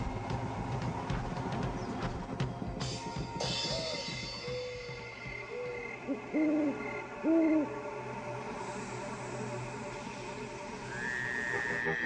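An owl gives a series of soft, low hoots at a moderate distance, spaced irregularly over a steady background of other garden sounds and a faint engine hum.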